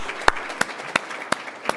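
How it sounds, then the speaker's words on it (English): At an annual scholarship celebration, a few sharp, evenly spaced claps ring out over a quiet room, five distinct hand claps with a faint background of scattered applause. "How about a round of applause for crossing through the 7-figure mark?"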